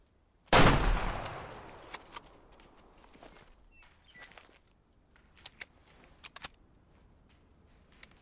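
A single loud hunting rifle shot fired at an elk in the hunting game Way of the Hunter, sharp and close with a long decaying echo, followed by faint scattered clicks and small impacts.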